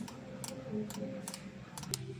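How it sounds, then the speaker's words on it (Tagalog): The headlight switch on a Yamaha YTX125 motorcycle is pressed repeatedly, giving sharp plastic clicks at irregular intervals over a low steady background hum, close and fairly quiet. "pinipindot ko na yung switch"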